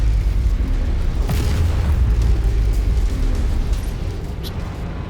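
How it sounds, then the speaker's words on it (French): A PPC energy weapon firing in MechWarrior 5: Mercenaries, heard as a deep, loud rumbling blast that fills the moment, with a brief sharp crack near the start over constant heavy low-end noise. "Ça tire souvent ce PPC"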